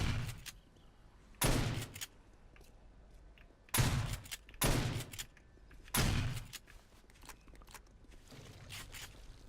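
Slug gun blasts from the game 7 Days to Die fire four loud, separate shots at uneven intervals, each a sharp crack with a short tail, over a quiet ambient bed with faint rustles.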